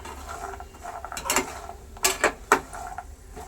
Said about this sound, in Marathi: हे जे बदाम आहेत ते आपण व्यवस्थित परतून घेऊया